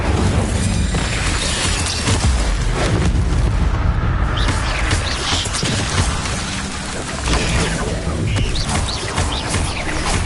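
Spell-casting in Hogwarts Legacy, with bursts of the Incendio fire spell: loud, dense booming blasts and crackling flame whooshes running continuously, with no talking.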